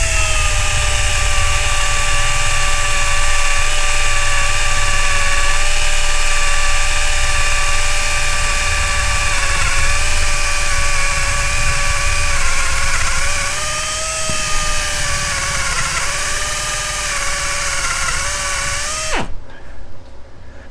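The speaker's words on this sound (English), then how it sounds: "So I sharpened a bit on the Vevor 1x30 belt grinder" A Vevor 1x30 belt grinder whines loudly and steadily while sharpening a bit, its pitch dipping slightly under load before the motor cuts off abruptly near the end.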